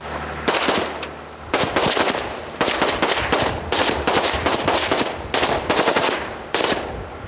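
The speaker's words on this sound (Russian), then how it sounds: "стрелять по ним из вот этих пушек" Deck guns on a border guard vessel fire during a night drill against underwater saboteurs off Odesa, sounding as loud rapid bursts of automatic fire. The bursts repeat in clusters with brief pauses between them.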